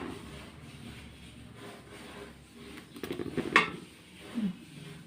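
Metal idli plates being handled and stacked in a kitchen, soft rubbing and light clinks building to a couple of sharper metallic clanks near the end.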